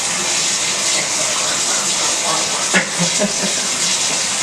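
Warm water gushes steadily from a tap into a bucket, a continuous hissing rush with a brief knock partway through.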